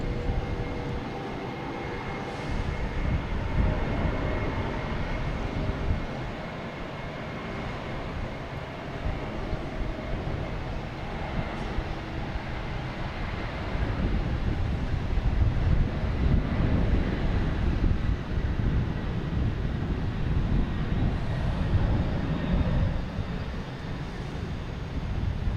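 Airplane jet engines roar steadily at Boston Logan Airport during takeoff, a broad sustained rumble with wind buffeting, building slightly louder in the second half and heard alone without talk.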